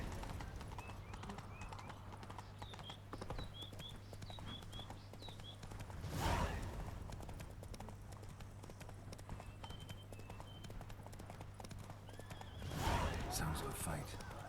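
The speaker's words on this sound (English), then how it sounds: "I'm trying to mount my horse," In The Witcher 3 video game, horse hooves clip-clop at a walking pace through the stretch, with two louder bursts that fit a neigh, all fairly quiet against a constant low in-game ambient hum.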